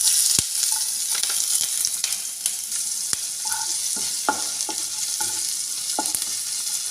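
Crushed garlic and slit green chilies fry in oil in a pan with a bright, dense sizzle. Sharp scraping clicks from a spatula stirring come at irregular intervals, and no one talks.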